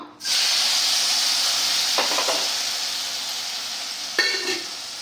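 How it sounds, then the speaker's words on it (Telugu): Tomatoes frying in a spoonful of oil give a steady, close broadband sizzle that holds the whole time, with two short bursts of stirring or a spoon scraping the pan. No one speaks. "ఇదిగోండి లైట్గా ఒక్క స్పూన్ ఆయిల్ వేసుకుని టమాటాలు వేయించుకుందాం"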